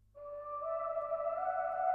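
Faint sustained vocal tones with a low-pass cut, big reverb and fluttering tape delay, a smooth wash of a couple of held pitches that swells gently and lingers, with no talking.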